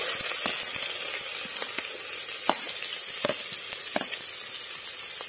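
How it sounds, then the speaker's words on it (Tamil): Onions hitting hot oil with popped mustard seeds, a steady frying sizzle broken by sharp crackles and pops, fairly quiet and close, no voices. "கடுகு பொரிஞ்சிடுச்சு, இப்போ வந்து வெங்காயம் ஆட் பண்ணிக்கலாம்."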